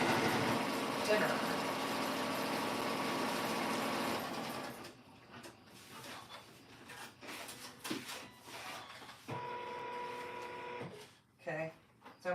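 A sewing machine runs steadily for about five seconds while stitching black vinyl for a bag, then stops, leaving short handling noises and brief bursts of motor.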